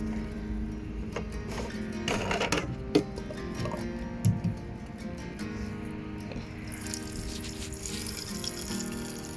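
Water runs from a tap into a jerrycan beside a camper van, a quiet trickle and splash with some faint clanks, heard without talk.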